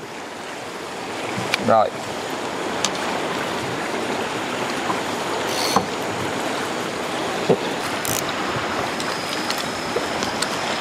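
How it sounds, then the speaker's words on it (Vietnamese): A boat passes on a river during a shrimp-baited fishing session, heard as a steady broadband wash of engine and water that fills the scene, with a few brief clicks and a short spoken word. "Nghe thuyền nè."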